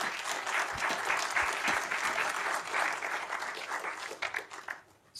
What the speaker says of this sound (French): Je vous propose de les applaudir une dernière fois.